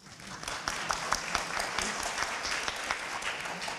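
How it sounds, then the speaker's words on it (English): Audience members at the Tokyo Asset Management Forum give a round of applause, a moderate, continuous patter of many hands that swells quickly and holds steady for several seconds. "round of applause"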